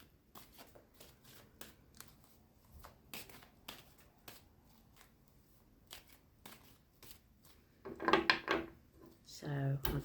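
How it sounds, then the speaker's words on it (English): Tarot cards being shuffled by hand nearby: a long run of quick papery riffles and soft slaps in an uneven rhythm, swelling into a louder, denser burst of shuffling near the end. "So I'm just going to shuffle now and just ask the question."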